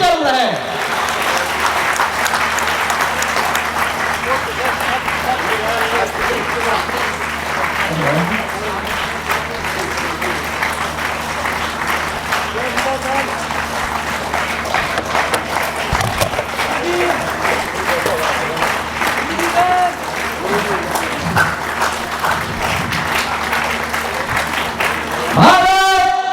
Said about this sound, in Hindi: सम्मान में तालियों की गड़गड़ाहट